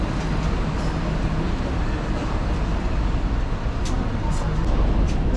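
A Singapore MRT train pulls out of Bedok station, a dense, constant rumble and hiss filling the carriage at close range, with a few faint high squeals near the end.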